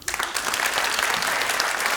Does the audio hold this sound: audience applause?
yes